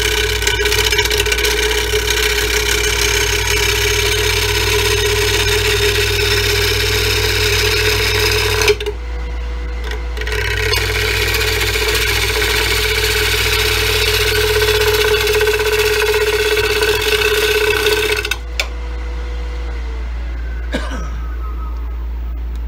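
A large wooden bowl blank spinning on a wood lathe at about 1,000 RPM, a steady droning motor hum with rough tool chatter, briefly dropping off twice before carrying on.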